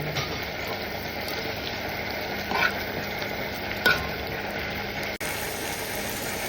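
Shrimp sizzling in a pan just after going in with garlic and onion, a steady moderate frying hiss with a couple of brief clinks and a short break near the end.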